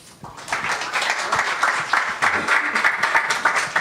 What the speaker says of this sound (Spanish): lo despedimos pues con un aplauso